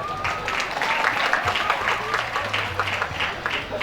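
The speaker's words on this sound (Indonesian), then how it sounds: "Marilah kita berikan tepuk tangan yang meriah untuk pidato bahasa Inggris tadi." Lively applause from an audience at a school farewell ceremony follows an English-language speech, steady clapping from a crowd with some voices and a low hum mixed in.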